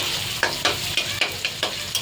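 Onion and green chilli frying in a pan, a steady close sizzle broken by regular scraping strokes of a spatula about every quarter second, with no voices.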